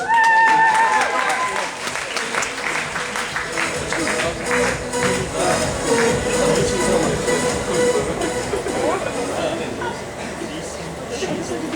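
An audience claps and cheers for dance contestants in a university Mister Charm pageant. Strong applause opens and then continues at a lower level, mixed with crowd chatter and shuffling.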